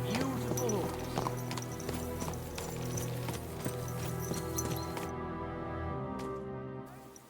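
Horse hooves and a neigh in Kingdom Come Deliverance II, an early whinny followed by irregular clip-clopping steps over a steady low ambient hum, fading out at the end.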